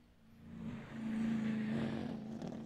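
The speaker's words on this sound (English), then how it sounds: "Just love the sound of that car" A race car on a qualifying time-attack lap at a GRIDLIFE track meet: a faint, distant engine note swells and holds as the car passes, then eases slightly.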